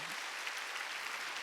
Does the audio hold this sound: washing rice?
no